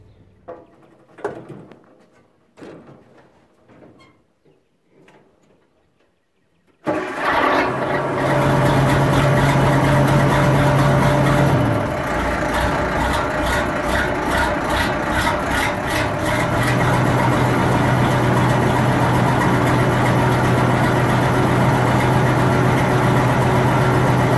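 A Case 1070 tractor engine starts up after some faint handling noise and runs loud and close, a steady heavy diesel drone with rattling and small shifts in pitch as it keeps running.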